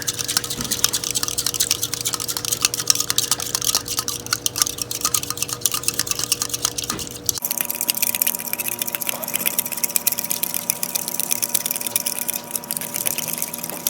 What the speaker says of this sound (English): you're just going to stir it up till bubbles form